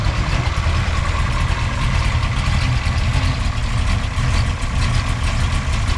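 A 1967 Chevrolet Chevelle big block V8 idles steadily and loudly nearby, a deep continuous rumble with no voices over it.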